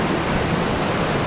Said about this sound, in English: the waves are cracking over there